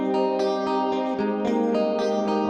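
A distorted electric guitar chord rings out with a huge, washy reverb set to a 10-second decay at 35% mix, notes smearing into a long, cavernous wash of sound.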